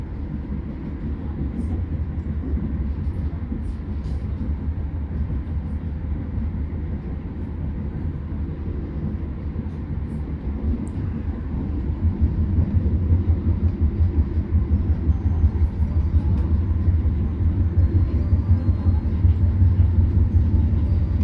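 An Argo Bromo Anggrek executive passenger train running near Semarang, heard from inside as a constant low rumble and roar that grows heavier about halfway through, with no clear voices.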